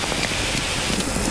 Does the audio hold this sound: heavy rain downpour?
yes